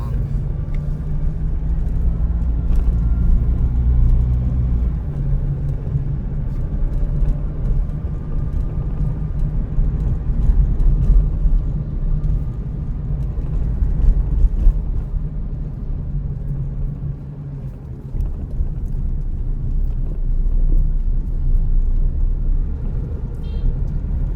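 A car drives along a city road in Buriram, Thailand, its engine and tyres making a steady low rumble heard from inside the vehicle throughout, with occasional faint bumps and someone speaking now and then.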